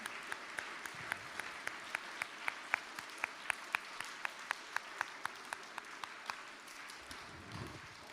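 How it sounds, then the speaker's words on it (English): Chapel congregation applauding standing teachers: a steady wash of crowd clapping with a sharp, regular clap beat cutting through at an even tempo, fading toward the end. "I'd love for you to stand up so we can all just thank you with our applause."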